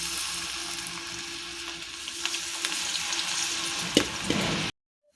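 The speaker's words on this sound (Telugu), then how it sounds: "ఇప్పుడు నూనెలో వేసుకుని డీప్ ఫ్రై చేసుకుందాం" Cauliflower pieces for gobi manchurian deep fry in hot oil, giving a continuous bubbling sizzle with a few sharper pops and light clinks from a utensil before the sound cuts off abruptly near the end.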